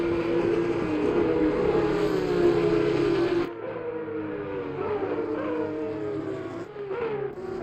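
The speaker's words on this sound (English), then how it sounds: "Listen to that engine" Race car engine in Assetto Corsa Competizione on the Nürburgring GP circuit, a loud high revving whine climbing through gears, then dropping sharply and building again with downshifts and accelerations.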